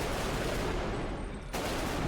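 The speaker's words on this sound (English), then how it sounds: "Fire inside a tiny bathroom" Gunfire in a cramped tiny bathroom in an FPS video game, a dense, loud, sustained roar of shots with a brief dip just before a renewed burst near the end.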